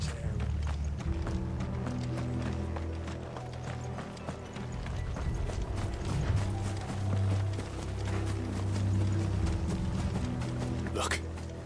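Horses' hooves clip-clop in a steady trotting rhythm in the video game Final Fantasy XVI, moderately loud and continuous under a low musical score.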